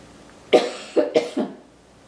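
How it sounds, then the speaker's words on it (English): Three or four harsh coughs in quick succession, close and fairly loud, with quiet room tone before and after. "Have a bit of a cough."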